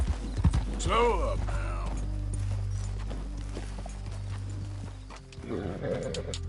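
Horse hooves clop steadily over a low droning hum in the video game Red Dead Redemption 2 while someone speaks briefly.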